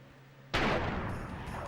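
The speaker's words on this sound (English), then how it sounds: "And then you just get that really cool explosion sound effect." A video game explosion effect from Crash Bandicoot 2: Cortex Strikes Back, a sudden loud blast that bursts in after a quiet start and fades slowly through a long rumbling tail.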